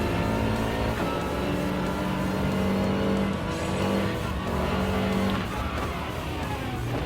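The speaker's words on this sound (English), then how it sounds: "triple overtake while taking that hairpin corner." Race cars in the Gran Turismo Sport video game roar continuously through a hairpin corner, with engine notes rising and falling as they jostle and overtake, loud and dense, with tires occasionally squealing.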